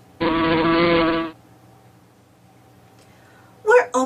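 A bee buzzes loudly and steadily for about a second close by, then falls silent before a short burst of voice.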